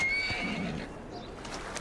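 A horse neighs in the Victorian London setting of Assassin's Creed Syndicate, a fairly close whinny at the start that fades, with faint hoof clip-clops beneath.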